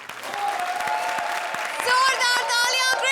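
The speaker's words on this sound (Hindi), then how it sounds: "जोरदार तालियां कृष्णा और सुदेश के लिए।" A studio audience at a comedy show gives loud applause for the performers Krishna and Sudesh. The crackling claps build and swell to a peak, with a voice speaking over them.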